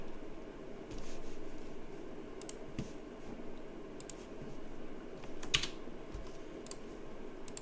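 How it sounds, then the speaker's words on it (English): A GitHub username is typed on a computer keyboard, with irregular clusters of light, close key clicks over a steady background hiss. "Over here, you're gonna type your GitHub username."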